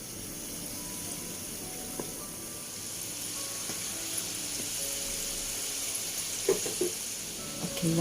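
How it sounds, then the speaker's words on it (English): Soft, steady sizzling of curry puffs frying in hot oil, with a few faint clinks and bubbling pops toward the end; no voices. "Once the oil is hot, I can start frying the curry puff."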